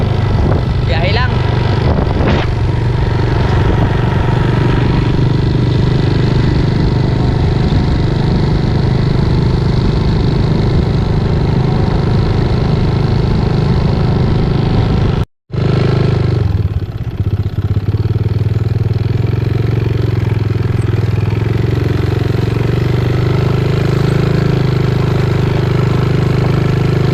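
A motorcycle engine drones steadily for about fifteen seconds under heavy road and wind noise, then cuts out abruptly, leaving a quieter idling rumble, with a voice talking intermittently over it.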